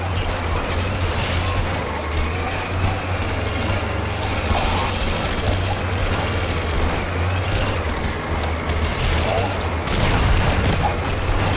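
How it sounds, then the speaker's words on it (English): EDF soldiers firing on miners in Red Faction Guerrilla, heard as a steady, unbroken crackle of gunfire over a low droning hum, moderately loud and continuous throughout, with a slight swell near the end. "EDF soldiers have opened fire. They're shooting the miners."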